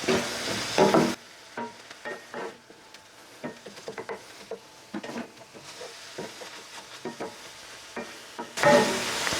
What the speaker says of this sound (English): We're going to go ahead and add our garlic clove. Just toast that just a bit.